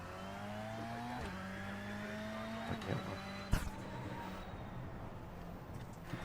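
A Volkswagen Beetle drifts in a racing video game, its engine droning steadily with shifting pitch and a brief squeal of tires midway, heard alone throughout.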